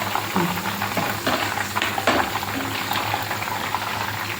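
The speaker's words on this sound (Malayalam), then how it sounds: "ഡെക്കറേഷൻ ചെയ്യാൻ കരിവേപ്പിലയും പച്ചമുളകും കൂടെ പൊരിച്ചെടുക്കുവാണ്" Curry leaves and green chillies deep-frying in hot oil as a garnish for cauliflower 65, a loud, dense, continuous bubbling sizzle close by, with light stirring taps through it.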